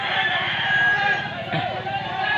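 Roosters crow at a Philippine fiesta with cockfighting, the calls overlapping amid steady crowd chatter and someone talking nearby.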